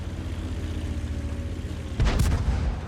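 A tank's main gun fires in World of Tanks at around two seconds, a deep booming shot with a short crack on top of a steady engine rumble, alone and fairly loud.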